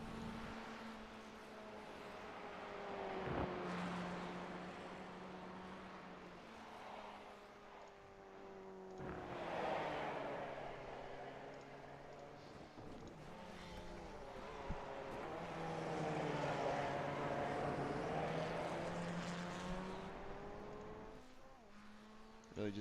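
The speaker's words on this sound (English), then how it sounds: "Really just getting a good listen here to what the car from Grapevine sounds like" Race car engine in the iRacing sim at the Charlotte Roval, a loud sustained harmonic drone rising and falling through gear changes and throttle lifts, with commentators talking faintly underneath.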